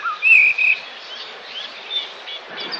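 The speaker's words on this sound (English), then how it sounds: "Birds do sing for joy." Birds chirp and whistle in a few bright, high notes early on, followed by fainter twittering over a soft hiss, heard alone without any voices.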